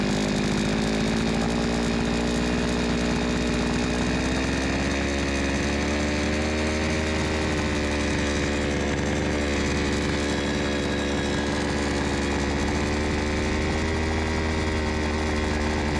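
A chainsaw engine screams at full throttle during carburettor tuning, a loud, close, sustained high-revving drone with a slight waver in pitch and no voices.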